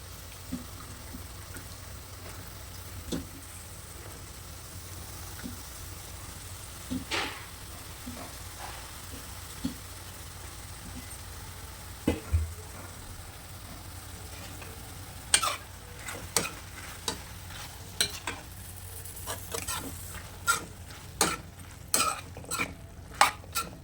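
Brinjal pieces are stirred into a tomato and drumstick curry in a pan, with a low simmering hiss under intermittent spoon scrapes and clinks against the pan that grow more frequent and sharper toward the end. No one speaks.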